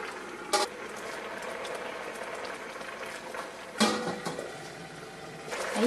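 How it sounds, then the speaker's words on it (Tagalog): Squid guisado simmering in a covered pot, a steady soft bubbling throughout, broken by a few brief louder clatters. "Ayan, kumukulo na ulit."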